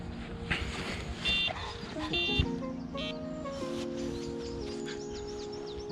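An electronic bite alarm on the right-hand rod of a pike fishing setup on a big, deep river sounds in a series of short, fast beeping tones, faint and close, over quiet outdoor background.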